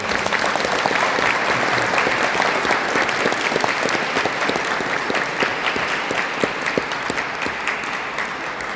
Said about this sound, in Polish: Poproszę szybkie gromkie brawa.